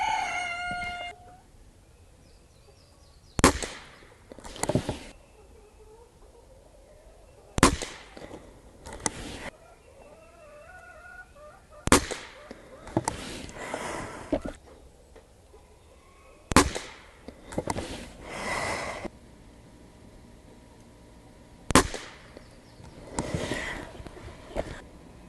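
A Gamo Magnum GR .22 spring-piston air rifle fires a ten-shot group at 25 yards. Sharp cracks come every few seconds, each followed by a quick secondary clack, with quiet pauses between shots.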